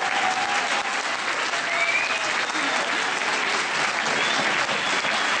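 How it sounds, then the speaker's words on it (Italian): Audience applause for a tango dance couple at a performance in Mantua, steady dense clapping from a large crowd holding at an even level throughout, with no voices over it. "Meritano sempre un applauso."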